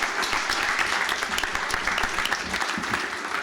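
An audience at a fireside tech chat breaks into steady, dense applause, with continuous clapping at an even level throughout and no pauses.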